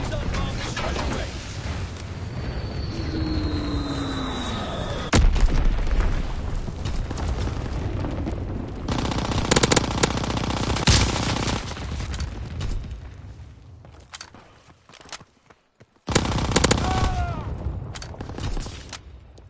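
Anti-aircraft gunfire bursts during a bombing mission: loud, rumbling booms and crackling bursts repeat over a dense roar, with a falling whistle early on and a brief lull before the barrage resumes.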